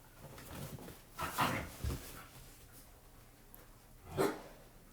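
Dogs from two packs being introduced play roughly together, giving a few short growly barks and whimpers at close range amid scuffling, with quiet gaps between outbursts.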